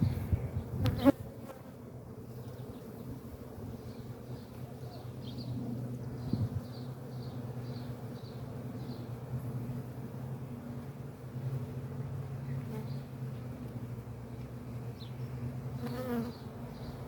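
Honeybees and small hive beetles around an open hive, a steady low insect drone with faint higher buzzing passes, close and continuous, with a brief handling knock near the start.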